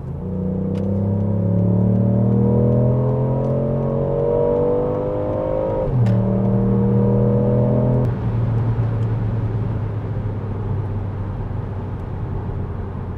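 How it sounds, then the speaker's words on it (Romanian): A 2023 Ford Puma ST X mild-hybrid with the 1.0 EcoBoost three-cylinder petrol engine, 160 hp, accelerates hard in sport mode, a loud, steady engine drone rising in pitch through two gear changes, heard from inside without talk. "Acesta este un motor în 3 cilindri."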